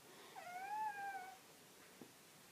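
A pet cat lets out a single drawn-out meow that rises and falls, clear and close but not loud, followed by a small soft knock in an otherwise quiet room.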